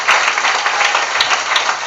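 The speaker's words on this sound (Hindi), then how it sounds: "और आपके प्रॉफिट के लिए ताली बजाएंगे जोर से।" Loud, dense applause from a church congregation, steady hand-clapping filling the space throughout with no talk over it.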